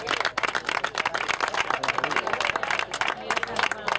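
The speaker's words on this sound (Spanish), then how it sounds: "Un fuerte aplauso." Crowd applause at a trophy presentation for a charity race, brisk sharp claps from many hands packed closely together, loud and lively, with voices mixed in among the clapping.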